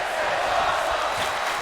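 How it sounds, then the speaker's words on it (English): An arena crowd in the WWE 2K22 wrestling game roars and cheers steadily, a dense, continuous wash of voices holding at an even level throughout with no single standout shout. "And you hear the crowd."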